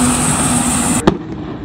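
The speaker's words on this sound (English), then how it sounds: "Someone's letting off fireworks as the U9 goes by." A single sharp firework bang cuts through the loud, steady roar of the U9 unlimited hydroplane racing past during qualifying at the Madison Regatta boat race, then the engine noise fades back to a lower drone.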